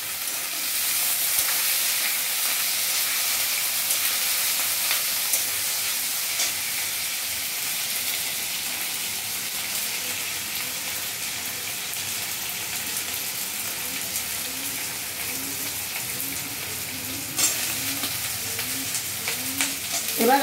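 Cut potatoes frying in oil with tempered spices in a pan for a bottle gourd peel dish, a continuous low sizzle close by with occasional scraping stirs, no talk.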